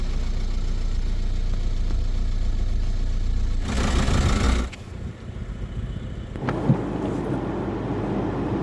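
Repaired Audi car engine running, a steady low rumble with heavy wind buffeting on the microphone, a burst of gusty noise in the middle, then a quieter hum that swells again toward the end.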